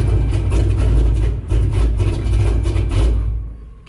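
A Dodge Charger HEMI engine cranks without catching because it is out of fuel: a loud, steady, low churning runs close up for about three and a half seconds with a brief dip partway, then dies away.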